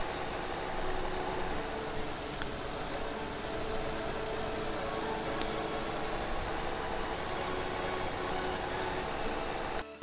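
Tractor engine in the farming game Landwirtschafts Simulator 15: a steady droning hum runs evenly throughout with no variation in rhythm, moderately loud and without talking.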